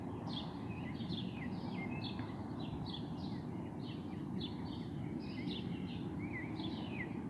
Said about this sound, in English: birds are basically chirping, so I can definitely hear them outside.